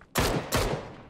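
Gunfire in PUBG on the Miramar desert map, two sharp booming shots about a third of a second apart, fairly loud with a long fading tail after each.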